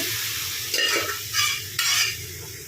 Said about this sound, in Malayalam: വേവിച്ച് വെച്ചിരിക്കുന്ന ബീഫ് ഇതിനകത്തേക്ക് ചേർത്ത് കൊടുക്കുകയാണ്